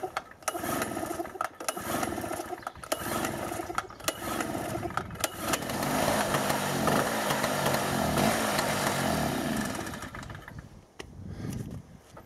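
A Hyundai EFI 2500 SEI portable generator is cranked several times with choke, giving short bursts of engine noise that catch into a few seconds of steady running, then fade, all fairly near and moderately loud.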